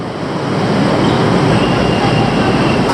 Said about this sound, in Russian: поезд приехал сюда, он какой-то короткий